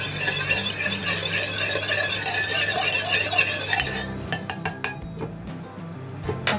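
A spoon stirs a mixture with water to dissolve it, scraping steadily, then sharp clinks against the dish in quick bursts near the end, close and fairly loud.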